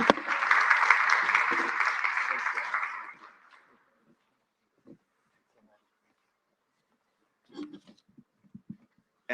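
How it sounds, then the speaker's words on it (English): An audience at a cyber stability conference gives speakers a brisk round of applause that lasts a few seconds and stops abruptly. Near silence follows, broken only by a few faint, scattered small noises. "So please join me in a round of applause to thank our speakers."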